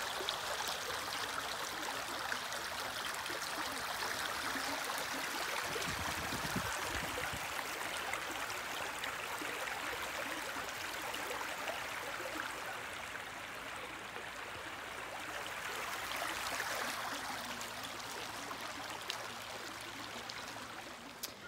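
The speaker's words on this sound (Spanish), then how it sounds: "Aquí en las montañas de Tennessee estamos en un precioso río." A river in the Tennessee Smoky Mountains near Gatlinburg rushes steadily, a broad even wash of flowing water heard up close and continuous throughout, with a brief low rumble partway through.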